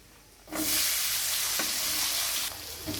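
Chopped onion tipped into hot oil seasoned with cumin and asafoetida for patri bhaji: a sudden loud sizzle bursts in after a brief quiet moment, holds as a strong, steady hiss, then surges again at the end.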